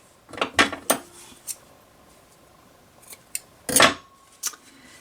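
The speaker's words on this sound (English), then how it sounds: "So now I'm going to snip off the first two sections." Scissors snip through quilt fabric sections in a few sharp, close cuts, a quick cluster early and another pair later, with quiet pauses and faint handling between them.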